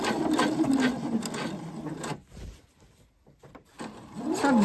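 A sewing machine stitches around the top of a fabric bag, running steadily in close bursts with a pause in the middle before restarting.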